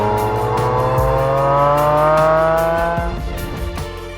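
A BMW S62 6.1-litre naturally aspirated V12 with four valves per cylinder revs hard, its high-pitched engine note climbing steadily, loud and close, with a brief dip near the end.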